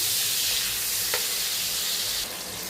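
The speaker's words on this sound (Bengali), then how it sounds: "চিংড়ি মাছগুলোকে দিয়ে অল্প করে ভেজে নিচ্ছি" Prawns frying in hot oil, a loud, steady close-up sizzle with a brief clink partway through and a slight drop in intensity near the end.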